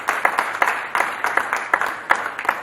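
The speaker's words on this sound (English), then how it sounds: "So give yourselves a round of applause." A keynote audience at an association event gives a round of applause, with scattered, uneven hand claps at moderate distance that stay fairly sparse and rhythmic for the length of the clip.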